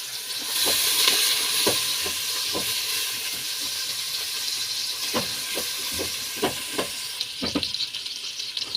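Onion and ginger sauté in hot cooking oil for chicken arroz caldo, a loud steady sizzle and hiss broken by irregular clinks and scrapes of a spatula against the pan, close by, no talking.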